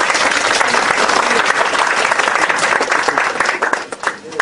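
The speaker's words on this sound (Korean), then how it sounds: "박수 한번 더 쳐주십시오." An audience at a party founding convention bursts into loud, sustained applause, a thick crowd of clapping hands that thins slightly toward the end.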